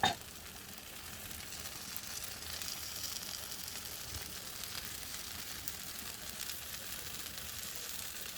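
Food sizzles and bubbles steadily in a hot pan, a soft continuous frying hiss at low level with no breaks.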